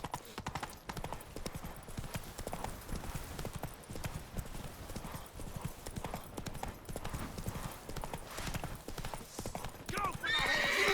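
Roach, a horse in The Witcher 3, gallops with a rapid clip-clop of hooves throughout and whinnies, while someone talks over the hoofbeats.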